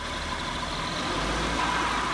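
An Acura engine starts and settles into a steady idle just after both motor mounts were replaced, a close, continuous low rumble heard alone.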